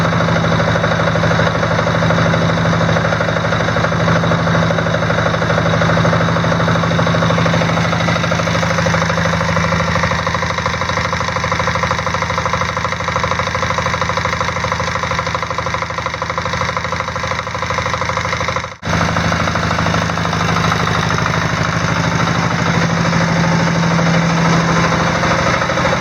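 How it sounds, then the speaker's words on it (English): An off-road mower engine idles steadily and loudly while loaded by a newly installed alternator charging the battery, a constant low hum with faint knocking and a single brief dropout partway through. "See if we can hear the alternator bogging the engine a little bit."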